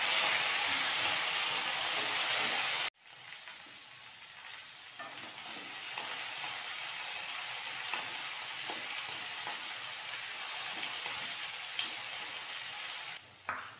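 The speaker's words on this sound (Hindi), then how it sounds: "इसके बाद मैं हरी सब्जी को इसमें डाल के भून लेंगे।" Green vegetables frying in a pan for mixed vegetable biryani, a loud steady sizzle and hiss that starts abruptly as they hit the oil and continues evenly, close and alone.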